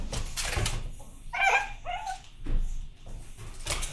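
Pug puppies around seven weeks old whimper, yip and give small barks close by, in short broken bursts over a soft room background.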